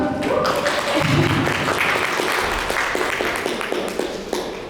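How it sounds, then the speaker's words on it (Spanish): A small audience at a talk on methamphetamine and other stimulants breaks into clapping, a busy, fairly loud patter that gradually eases off, with voices mixed in around it. "por un aplauso"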